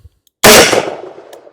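A single loud .44 Magnum revolver shot fired outdoors, an abrupt sharp blast after a short silence, then a decaying echo tail over about a second.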